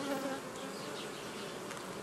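Honey bees hum in a dense, continuous drone at an apiary hive during a brood-frame reorganisation, the buzzing steady and fairly soft throughout with no voices.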